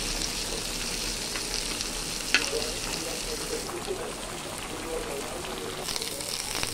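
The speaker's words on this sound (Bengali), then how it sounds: "পেঁয়াজটা দিয়ে দিলাম, এবার হাফ হয়ে গেছে। এবার ওর সঙ্গে পুরো ভাজা হয়ে যাবে।" Onions frying in a pan for a vegetable and fish curry, a continuous close sizzle with occasional stirring scrapes and one sharp clack, heard under a person talking.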